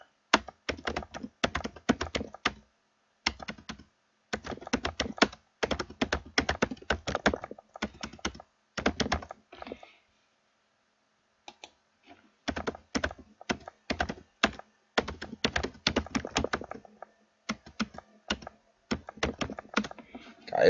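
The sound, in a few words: typing on a computer keyboard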